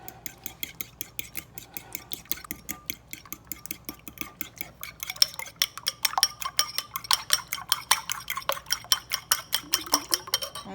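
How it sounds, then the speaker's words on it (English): Eggs beaten in a bowl for brownie batter with a utensil, a fast, regular clinking whisk rhythm that picks up pace and loudness partway through, close and without talking. "now that we've got our eggs beaten up"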